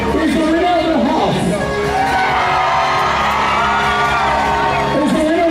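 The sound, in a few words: cruise ship crowd screaming and shouting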